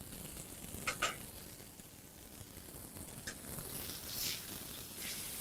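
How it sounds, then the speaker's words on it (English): Beef tenderloin searing in a pan with black truffle paste, a soft steady sizzle with a few sharper crackles and pops, quiet and close, no talking. "So we're just going to sear this off."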